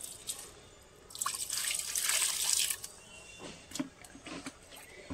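Water splashing and trickling onto the soil of an apple ber plant for a couple of seconds, followed by scattered drips.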